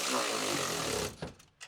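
A battery-powered tool whirs loudly for about a second while tightening a bolt on a Lock-N-Load Pro strapless motorcycle transport mount, then stops. Two brief, quieter bursts follow.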